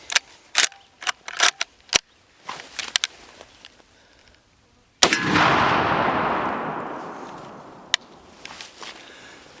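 Light mechanical clicks and handling of a lever action rifle lead up to one loud black powder shell from Buffalo Arms, fired at a range; the blast is followed by a long, slowly fading roar, then a single sharp click.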